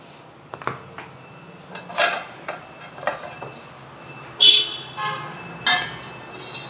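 An eggless plum cake made without an oven is being cut, with a series of close, sharp scrapes and taps of a knife against the pan or plate, irregularly spaced with brief pauses between them.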